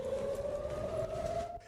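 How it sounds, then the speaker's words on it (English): A wailing air raid siren sounds in Israel during rocket fire, a steady sustained tone heard from a distance, fading at the end. "The sirens and the fear."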